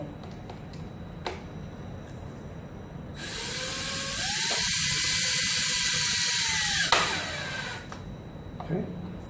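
A power drill drives screws into flat-pack furniture in an apartment, giving one sustained high whining burst of several seconds with brief clicks and taps before and after, heard up close.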